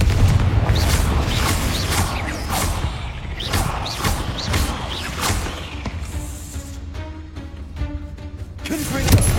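Repeated booming blasts from a fire-based blasting spell in a video game, several heavy thuds with crashing debris spread across the clip, loud and close, with game effects and a brief spoken word in between.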